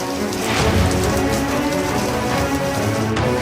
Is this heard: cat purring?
no